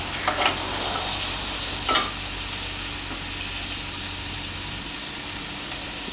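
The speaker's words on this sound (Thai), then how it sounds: "เดี๋ยวเราจะ รอให้ไข่เพิ่มสุกนิดนึงแล้วก็ยีๆให้มันแตกนะครับ" Egg frying in a wok for stir-fried suki, a loud, continuous sizzle with a couple of short scraping stir strokes early on, no speech.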